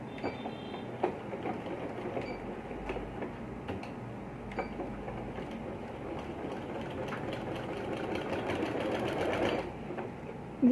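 A sewing machine stitches the button placket of a kurta, its needle running in a steady, fast mechanical patter with faint ticks throughout and a slight rise in loudness near the end.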